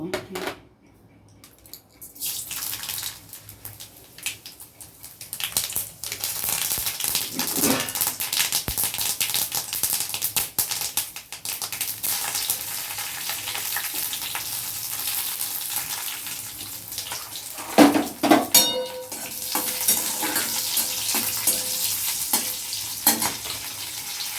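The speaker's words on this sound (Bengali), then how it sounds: "এবার আমি কটা মেথি আর কালো সর্ষে সাদা সর্ষে মেশানো আছে, শুকনো লঙ্কা, তেজপাতা, এগুলো ফোড়নে দেব" Whole spices and dried chili crackle as they hit hot oil in a pan: fenugreek seeds, mixed black and white mustard seeds, dried red chili and bay leaf for a Bengali jhinge shukto tempering, a steady close sizzle with occasional utensil clinks and stirring.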